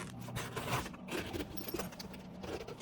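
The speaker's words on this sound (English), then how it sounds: "let me check quickly if this zip opens now" Zipper on a newly installed canvas soft top of a Triumph TR6 being opened by hand, quiet and close, with scraping and rustling bursts of fabric and zip teeth.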